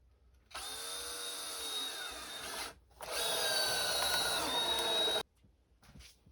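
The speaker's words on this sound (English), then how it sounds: "All right, it's all screwed together. 8 screws total." A power drill drives screws into timber, giving two sustained whirring runs of a few seconds each with a brief pause between them, loud and close.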